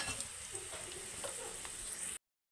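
Tempering spices fry in hot oil for semolina upma, making a steady, dense sizzle close up that holds evenly for about two seconds before cutting off abruptly.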